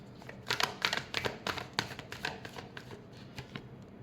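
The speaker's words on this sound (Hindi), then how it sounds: "Last shuffle." Tarot cards are shuffled by hand in a quick series of crisp riffling slaps and flutters, close and fairly faint, with no talking.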